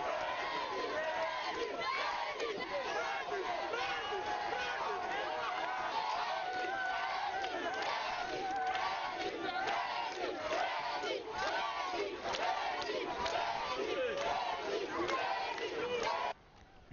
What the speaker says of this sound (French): toutes ces populations sont massivement sorties pour l'acclamer et l'encourager